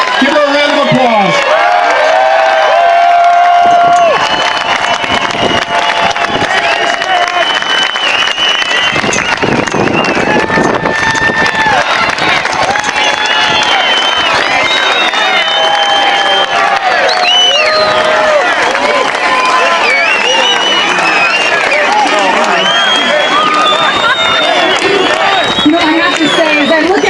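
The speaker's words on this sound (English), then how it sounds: "Give her a round of applause." A large rally crowd cheers, whoops and applauds loudly and continuously at a Tea Party political event in Utah, with shouting voices layered through the roar.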